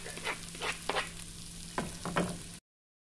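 Garlic added to hot oil in a frying pot for a beef stew with green peas, a loud, steady sizzle with several bursts of stirring and scraping, close and without talk, cutting off abruptly.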